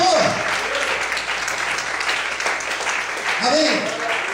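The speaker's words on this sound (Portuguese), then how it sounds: "Aplauda o Senhor." A church congregation claps in praise after a sermon, steady dense applause throughout while a voice speaks over it near the start and again near the end.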